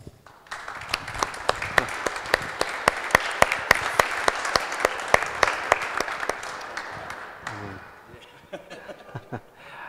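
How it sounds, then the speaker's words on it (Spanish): A church congregation at a question-and-answer session applauds, a dense, sustained wash of many clapping hands with crisp individual claps standing out, fading toward the end. "Ese aplauso fue para la gloria de Dios."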